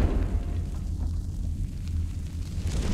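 Deep rumbling blast aftermath from an explosion in the video game Metro: Last Light, a sustained low boom and roar filling the clip with steady loudness and no speech.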